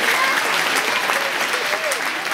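Audience applause at a judo club's season-end general meeting, steady loud clapping from a crowd throughout, with some voices mixed in.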